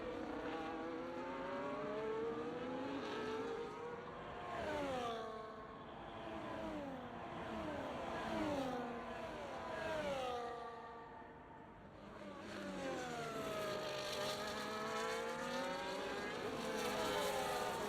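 Formula 1 cars racing in an F1 video game at the Hungarian Grand Prix, engines revving high and sweeping up and down through gear changes as the cars slide through corners, steady and fairly loud, with no talk.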